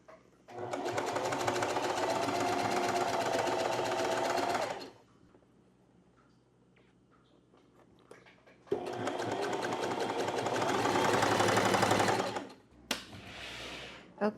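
Sewing machine on a straight stitch, shirring fabric: two long runs of fast, steady mechanical needle chatter, loud and close, separated by a quiet pause, with a brief burst at the end.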